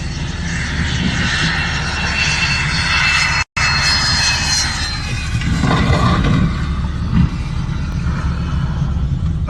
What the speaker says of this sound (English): This Cessna Citation couldn't stop in time and overran the runway at an airport in Texas.